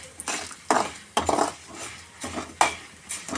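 Urad dal and lentils frying in a pan for chammanthi podi, stirred with a utensil that scrapes and clinks against the metal in several sharp strokes over a faint sizzle.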